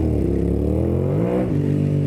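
A motorcycle engine revs hard and close, its pitch climbing quickly and then dropping back, with a rough, buzzing tone across the short burst.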